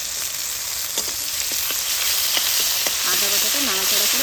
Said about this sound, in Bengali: একটু সামান্য ভেজে নিয়ে আদাটা হালকা একটু ভেজে নিয়েছি